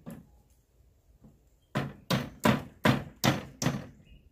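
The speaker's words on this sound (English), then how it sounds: "Hammer these back out." Hammer blows knock nails back out of wood during a double-wide mobile home laundry room remodel: a few faint taps, then six loud, evenly spaced strikes in quick succession.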